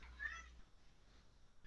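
A house cat meows once, briefly and faintly, in the background of a quiet room.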